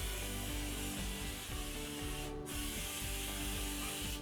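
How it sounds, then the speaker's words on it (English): A spray can hisses steadily and loudly nearby while spraying jerry cans, with one brief pause before the spraying resumes. "Just spray everything that needs to be sprayed."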